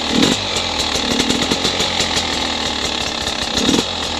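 A Beta 300RR dirt bike engine runs steadily just after starting with the choke on, a loud close buzzing idle with small blips in revs and no voices.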